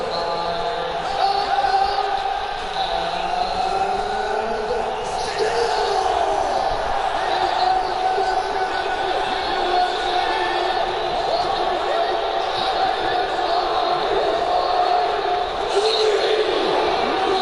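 Virtual arena crowd in the UFC 2 fighting game cheering and roaring continuously after a title fight decision, a dense sustained wall of crowd noise with swelling shouts, while a commentator talks over it.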